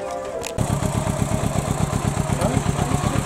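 Kawasaki Z650 motorcycle engine fires up after a brief quiet moment, then runs in a steady, loud, close idle with a rapid, even throbbing pulse and mechanical clatter throughout.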